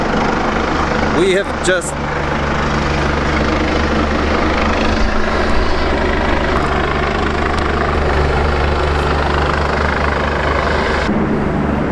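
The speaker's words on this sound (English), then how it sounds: "Medical helicopter." A medical helicopter passes overhead, its rotor throbbing as a steady, loud drone that fills the whole stretch; someone speaks briefly early on over the engine noise.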